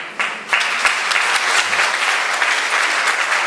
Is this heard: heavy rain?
no